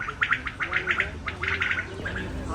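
Quails call at a bird market in Margilan, giving rapid, repeated chirping bursts close by over a murmur of crowd noise and faint talk.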